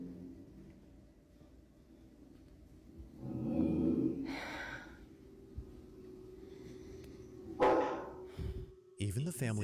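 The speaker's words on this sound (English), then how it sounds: "Even the family dog was freaked out by this. They growl and bark as if sensing something dangerous" A family dog gives a couple of short, muffled barks and low grumbling sounds in a quiet room, with faint background noise between the outbursts.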